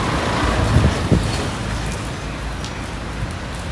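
Steady rain falls on a street in Phuket, Thailand, a continuous broadband hiss with wind rumbling across the microphone and a couple of soft low thumps early on.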